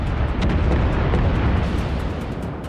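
Naval guns on the Japanese tier II cruiser Chikuma fire shells at a destroyer in World of Warships, producing dense, loud, rumbling booms and crackling blasts that run together for almost three seconds.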